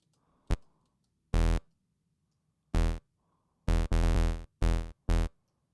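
A Serum-made 808 bass plays loud, isolated booming notes whose volume is pulsed by a half-note LFO, with a short click at the start and gaps of silence between the notes.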